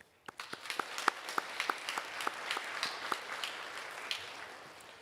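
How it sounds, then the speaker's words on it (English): Audience applause at a pharmacy white coat ceremony as student pharmacists are honoured: a crisp clapping that grows from a few sharp claps into a sustained round, then thins out. "Please join me in applause for yourself and all of your student pharmacist colleagues."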